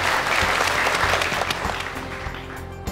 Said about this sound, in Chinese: 下面让我们掌声有请模特再次登台